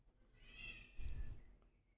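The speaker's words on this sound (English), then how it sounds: "my cat is meowing" A house cat lets out a single drawn-out meow, fairly faint and close, rising and then fading, with no talking.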